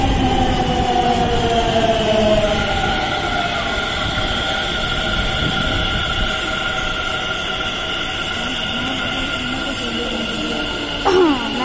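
A train rumbles and hums steadily with a high-pitched electric whine and a brief squeal near the end, as a metro pulls in, with faint voices underneath.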